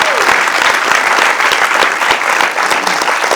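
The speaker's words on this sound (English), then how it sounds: "Wait for the applause. You gotta enjoy the applause." Loud, dense audience applause following a film Q&A, a large crowd clapping continuously and evenly throughout, close and full.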